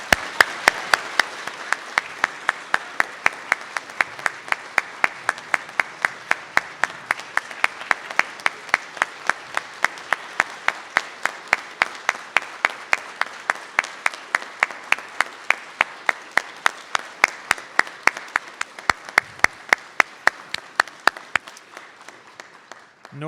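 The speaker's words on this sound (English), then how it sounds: "please join me in a warm round of applause" A large audience gives a warm, sustained round of applause for a graduating College of Law class at a university ceremony, dense steady clapping continuing for over twenty seconds before tapering off at the end.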